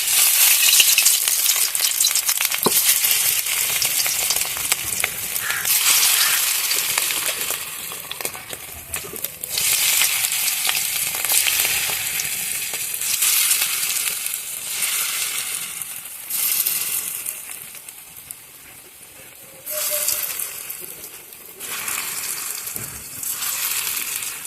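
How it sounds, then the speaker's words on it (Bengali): Spoonfuls of fritter batter (bora) sizzle in hot oil in a pan, a loud, continuous crackling hiss that swells each time more batter goes in, with occasional stirring scrapes and no talk. "তো চলো এবার একটা একটা করে বড়াটা ভেজে নিই"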